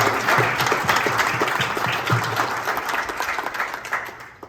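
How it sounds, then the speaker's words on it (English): A crowd at a Waukesha County Democrats gathering applauds itself, a loud, continuous patter of many hands that slowly thins toward the end. "let's give yourselves a round of applause"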